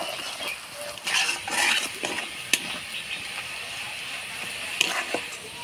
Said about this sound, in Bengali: এবার ফোড়ন দিয়ে দিব পেঁয়াজ কুচি। পেঁয়াজটা লাল করে ভেজে নেব।